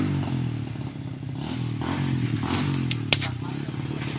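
A motorcycle engine idles and revs steadily while warming up on a Sunday, with a continuous throaty rumble throughout and a brief sharp click near the end.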